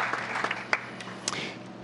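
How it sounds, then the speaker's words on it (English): Applause from attendees at a town council meeting: a scattered round of hand claps in a room, moderately faint, with a few sharper individual claps standing out. "I think they deserve a big round of applause for being here"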